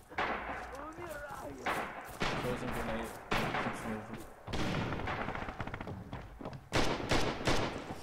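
Gunfire in a video game match: repeated bursts of shots and booming blasts, with grenade explosions and stabbing, heard loud and close in dense, overlapping volleys.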